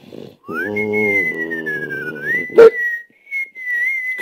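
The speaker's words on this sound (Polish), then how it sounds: "Nawet całkiem ładnie Pani gwizdże." A woman whistles a clear, sustained, gently wavering tune at close range, with a low hum-like tone underneath early on and a brief sharp knock midway.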